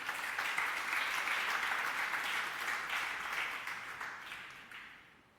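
A church congregation applauds and cheers for the Lord, a dense, steady wash of clapping and voices that holds strong before tapering off toward the end.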